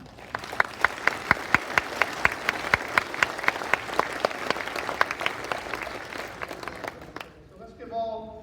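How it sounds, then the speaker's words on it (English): An audience breaks into sustained clapping for a family being honoured at a dedication ceremony, steady and full for about seven seconds before fading out as a voice begins talking. "let's give all this family a round of applause"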